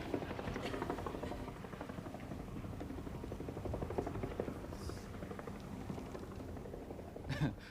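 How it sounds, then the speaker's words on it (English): Gyrocopter in flight, its rotor and engine giving a steady loud drone that fills the whole stretch without letup, with a brief louder burst near the end. "our very willing whirly-wheeler is about to get his first taste of flight in a gyrocopter"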